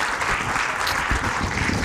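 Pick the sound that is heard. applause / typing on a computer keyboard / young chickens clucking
applause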